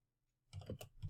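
Computer keyboard being typed on at a Windows 7 PC, a short burst of a few quick clicking keystrokes after a moment of near silence.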